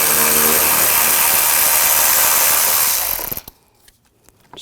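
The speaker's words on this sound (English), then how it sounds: "We're going to take these two bolts out, use a 10mm socket." A power tool spins 10mm bolts out of the power steering reservoir on a 2006-2009 Audi S4. A loud continuous whir runs for about three seconds, then stops, leaving near quiet with a few small clicks.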